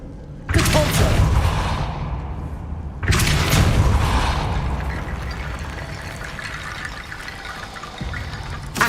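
Two Depulso force spells fire in Hogwarts Legacy, each a sudden loud blast that trails off into a long, fading whoosh, with quieter ambience between them.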